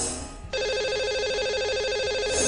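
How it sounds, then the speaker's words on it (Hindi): Telephone ringback tone sounds as a call is placed to a caller on a radio show, a faint hiss first, then a steady loud repeating electronic ring pattern continuing to the end. "तो लगा लेते हैं इन्हें अब कॉल और कर लेते हैं बात।"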